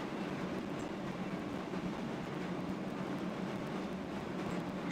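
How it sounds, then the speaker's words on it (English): A train rolls past in Train Simulator 2020, a steady low rumble and wheel noise holding at an even, moderate level throughout without any breaks. "You can see the train in the distance."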